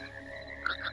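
Frogs croak in the Hytale video game, a quick cluster of bright, bubbly calls overlapping near the end of a short stretch over a soft, steady ambient bed.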